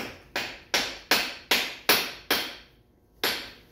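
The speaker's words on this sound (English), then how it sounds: "Maybe I'll just give it a few thwaps with this little hammer" A small hammer tapping a drill bit into a lathe chuck: seven sharp metallic taps, six evenly spaced then a short pause before the last, each crisp and close with a quick ringing decay.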